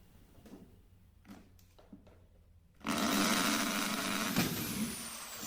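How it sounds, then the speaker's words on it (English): A Bosch GBM 13 RE Professional drill boring into plastic: a few quiet knocks, then the motor starts with a loud, steady whirring drone that holds to the end, close by. "Now I'm also going to drill it, putting the drill machine on the first pot."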